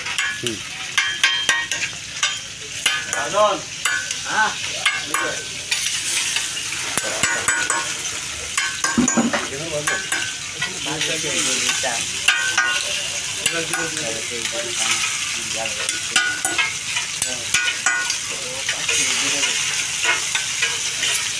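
Steady loud sizzling of chicken kebab frying in hot oil at a street food stall, with stirring scrapes and clinks of a pan throughout, no voices.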